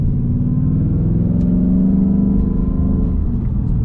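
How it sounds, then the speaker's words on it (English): A car engine rumbles steadily up close on a cold morning, a continuous low drone with slight revving and no one talking. "man, this car does not want to go this morning."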